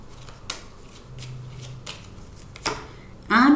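Tarot cards are shuffled and drawn in a few quick riffling bursts with soft slides between them, close and crisp, and a voice cuts in at the end.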